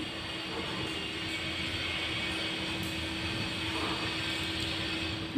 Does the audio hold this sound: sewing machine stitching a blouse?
yes